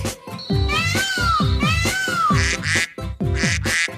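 Loud, nasal duck quacks repeat quickly over a steady rhythmic thumping beat.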